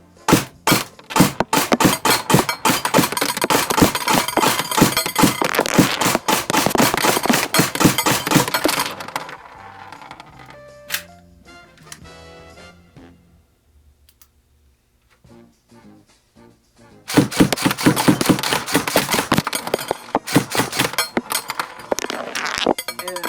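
BB gun pellets strike a homemade BB trap in long rapid strings of sharp, cracking impacts, loud and close, broken by a quieter stretch of scattered clinks in the middle before the rapid hits resume.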